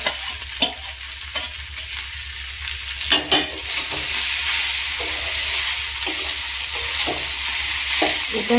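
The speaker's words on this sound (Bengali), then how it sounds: "এটা একটু হালকা হালকা ভাজা ভাজা করে নিলাম।" Sago upma with mixed vegetables and peanuts fries in a pan while being stirred, with repeated scraping strokes over a steady, close sizzle and no voices.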